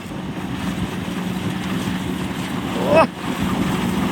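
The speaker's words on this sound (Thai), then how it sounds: "ลมแรงจัดครับ" Strong wind blows across a rice field during harvest where the crop has fallen over, a steady loud rush buffeting the microphone with a brief louder gust near the end.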